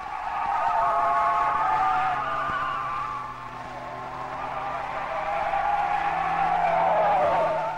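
A Fiat 850 corners at the limit on a circular asphalt test track, its tires squealing loudly and continuously over a steady engine drone, the squeal swelling and easing across the run with no talk.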